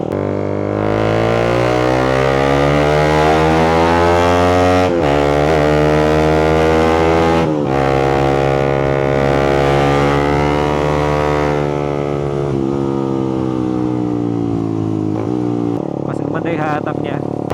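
A Suzuki GSX 150 motorcycle with a freshly cleaned throttle body is ridden, its engine a loud, sustained droning hum that rises and falls in pitch through several gear changes and throttle shifts, heard close without talk.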